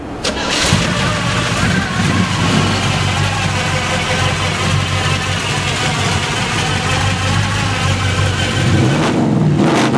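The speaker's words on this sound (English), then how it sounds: "The exhaust on this thing sounds awesome." A 1965 Chevy Chevelle convertible's engine runs with a loud, continuous exhaust rumble, holding steady at close range for the whole stretch with no talking.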